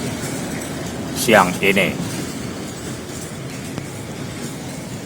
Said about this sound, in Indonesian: Rangkaian kereta api dari Padang baru saja memasuki stasiun kereta api Pariaman